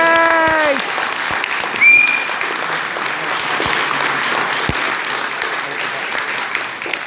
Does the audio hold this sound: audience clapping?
yes